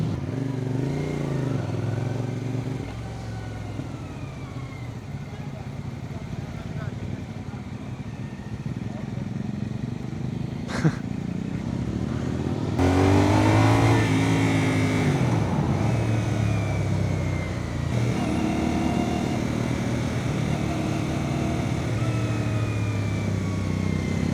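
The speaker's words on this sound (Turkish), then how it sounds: "Abi ara gaz vereyim mi? Sesi çok tatlı ya." A 450SR motorcycle engine revs in traffic, a steady mid-range drone that surges louder and higher partway through, with a person talking over it throughout.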